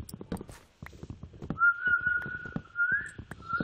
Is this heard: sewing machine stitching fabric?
no